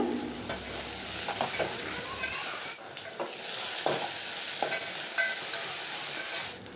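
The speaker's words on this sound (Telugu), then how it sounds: "ఒక గుప్పెడు కొత్తిమీర ఒక గుప్పెడు పుదీనా అయితే వేసుకున్నాను నేను ఇవి రెండు నిమిషాలు ఫ్రై చేసుకోవాలి" A handful each of coriander and mint fries with ginger garlic paste in a pan, a continuous close sizzle with a few scraping stir strokes and small pops.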